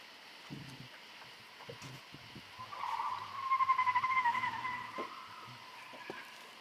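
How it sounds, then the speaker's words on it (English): A car passes at a distance, its tires skidding and squealing in a rising, wavering screech that peaks mid-way and then fades, over a quiet outdoor background with scattered small knocks. "Sounds like someone about 14 years old is driving the car."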